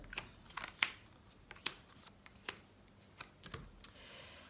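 Large oracle cards being shuffled and drawn, a quiet series of sharp papery flicks and soft slides with irregular taps, close and faint, with no talking.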